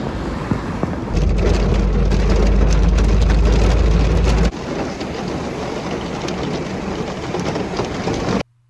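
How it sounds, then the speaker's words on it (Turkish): Heavy hailstorm in Mersin, Turkey, with drivers caught on the road: a loud, dense roar of pelting ice and rain that surges strongly for a few seconds, then eases to a steadier but still heavy downpour, with no voices. "Yaklaşık 10 dakika süren şiddetli dolu yağışı esnasında seyir halinde olan sürücüler de zor anlar yaşadı."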